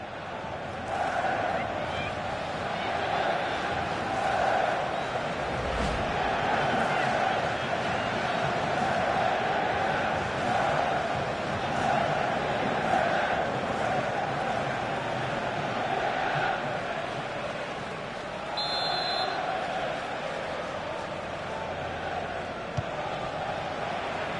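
A crowd roars in a PS4 football video game as fans crave a goal. The broad, steady wash of noise holds for over twenty seconds and stays fairly quiet and even.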